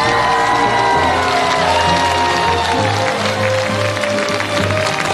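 A studio audience of about five hundred at a Chinese televised classic-song show applauds steadily and loudly for the full stretch, the dense clapping blended with sustained background music.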